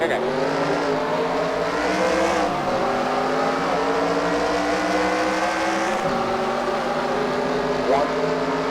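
Race car on a California track accelerating through the gears and briefly losing grip, its engine a loud continuous roar with rising and falling pitch, dipping around gear changes, while a voice talks over it.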